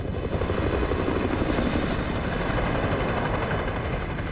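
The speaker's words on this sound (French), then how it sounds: "Hélicoptère en approche." A video game helicopter's rotor thumps steadily with a heavy, continuous engine roar, close and loud throughout.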